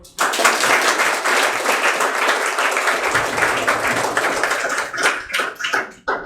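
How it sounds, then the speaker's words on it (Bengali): A loud burst of audience applause for Sumit sir, a maths teacher, sustained and dense for several seconds before breaking into scattered, uneven claps. "সুমিত স্যারের জন্য একটা হাততালি হোক"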